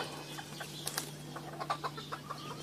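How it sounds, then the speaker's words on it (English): Chickens on a farm clucking, a cluster of short, scattered clucks and squawks at moderate distance over a steady low hum, fairly busy but not loud. "those chickens are really loud over there"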